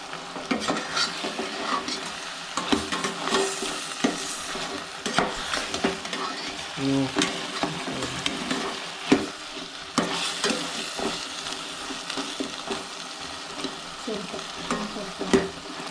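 Chicken sizzles loudly in a dry pan with no water while a spoon scrapes and stirs repeatedly, with frequent metallic clanks against the pot throughout.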